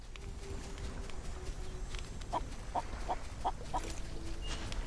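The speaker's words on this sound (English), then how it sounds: "There's a chicken." In a video game, a chicken clucks in a short run of five quick evenly spaced clucks, fairly faint over a steady background hum, with no talking.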